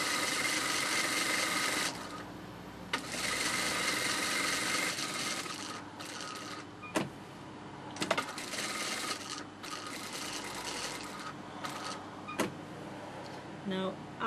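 A sewing machine stitches around a sari blouse in fairly steady runs with brief stops, accompanied by light rubbing and handling of the fabric close by.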